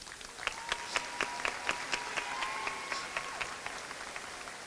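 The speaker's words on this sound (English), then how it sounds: "can we honor and applaud our families?" A graduation ceremony crowd applauds, with a rhythmic run of sharp claps standing out over a steady wash of audience clapping at moderate distance.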